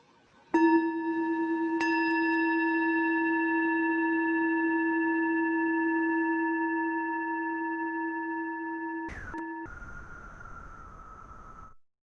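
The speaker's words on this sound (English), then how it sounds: "listen to the sound of the bell until you can't hear it anymore" A single bell struck once, its steady ringing tone slowly fading over several seconds, then a brief click and a faint different tone at the end.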